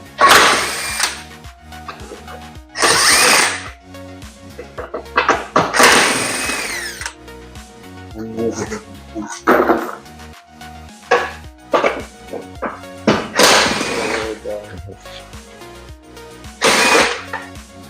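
A power tool unbolting the muffler bolts on a C7 Corvette, loud close bursts of whirring and rattling that start and stop repeatedly, with clanks and scrapes of metal parts between them.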